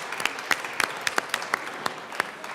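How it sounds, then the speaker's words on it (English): Sparse applause rings out in a legislative chamber, a small group of people clapping in distinct, uneven claps that stay fairly close and modest in loudness. "Applause."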